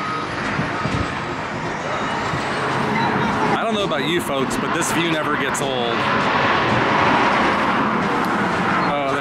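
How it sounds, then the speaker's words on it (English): A semi-truck rumbles across a roadway bridge in the Mojave Desert, a loud close broadband roar that swells as it passes, with a person talking over it. "when you're standing on this bridge and a semi-truck is like feet away from you going across this thing"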